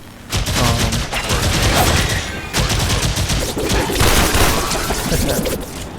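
Dense, loud bursts of assault rifle fire from enemies in the Warframe video game rattle almost continuously, with overlapping shots and impacts and only a brief lull partway through.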